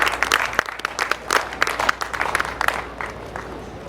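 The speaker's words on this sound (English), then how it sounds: "Please a round of applause to him." Audience applause at a formal investiture ceremony for a surveyors' association, a burst of brisk separate claps that is strongest at the start and gradually fades, with no one talking over it.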